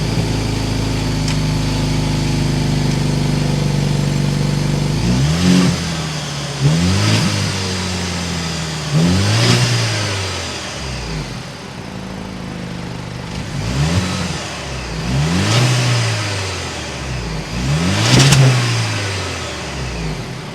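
A 2023 Range Rover Evoque R-Dynamic S with a 2.0-litre turbo four-cylinder idles, then revs sharply about six times in a row, each blip climbing and falling back, loud and close with no talking.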